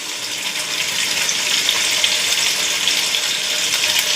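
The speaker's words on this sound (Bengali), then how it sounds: "এবার এই তেলটা গরম হয়ে গেছে। আমি এই তেলে পনিরটা একটু সফট করে নেব।" Paneer fries in hot oil in a home kitchen, a steady close hissing sizzle with faint crackles, continuous and without talk.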